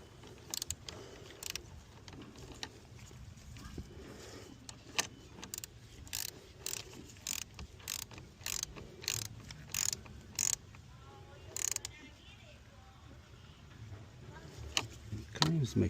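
A hand ratchet tightens the battery hold-down on a 2022 Jeep Wagoneer, giving a long run of quick, faint clicks in a steady rhythm over a low background hum.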